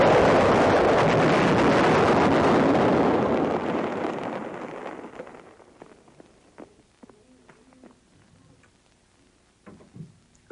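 Huge roar of a 914mm Little David mortar shell blast that slowly fades away, followed by scattered faint thuds and debris sounds.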